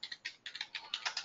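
Quick run of about a dozen keystrokes on a computer keyboard, close and crisp with no voices, as a search is typed into Google during a demo of an HP ProLiant server lab.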